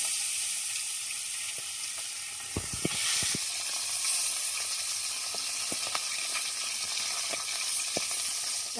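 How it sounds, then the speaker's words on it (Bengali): Tilapia fish fry in hot soybean oil in a pan, a continuous close sizzle with a few sharp clinks and taps from the pan around the middle, no talking. "আমি 4টা মাছ দিয়ে দিচ্ছি, আরগুলো একটু পরে ভাজবো।"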